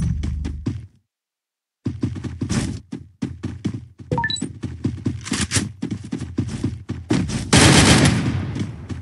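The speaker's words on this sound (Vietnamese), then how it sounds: "Nó bắn trên mình nhanh thật đấy" Rapid bursts of video game gunfire, loud and close, firing in quick repeated volleys with a short silent gap near the start and denser shooting toward the end.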